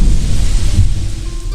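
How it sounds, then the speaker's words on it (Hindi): A loud crack of thunder rumbles during a rainy July storm, a heavy, booming roar that stays strong with steady rain hiss throughout and fades slightly toward the end. "जोर से बिजली कड़की"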